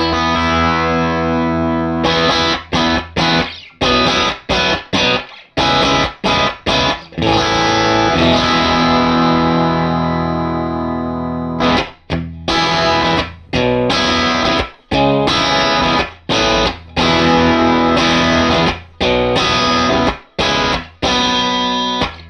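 An electric guitar plays through a Heavy Electronics Red Eyes Overdrive pedal with a gritty, mildly overdriven tone, strummed chords and riffs with short pauses between phrases, loud and close.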